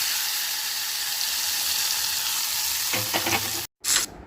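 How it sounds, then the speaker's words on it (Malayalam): Hot oil tempering sizzles and hisses steadily, then crackles and spatters louder as it is poured into lime pickle, followed by a brief break and renewed sizzle. "ഇനി നമുക്ക് ഈ നാരങ്ങ അച്ചാറിലേക്ക് ഒഴിക്കാം"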